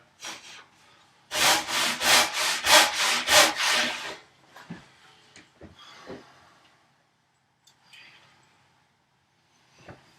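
A short panel saw cuts a tenon cheek, giving a quick run of about eight loud, rhythmic rasping strokes, followed by a few softer scrapes and handling knocks before it falls quiet.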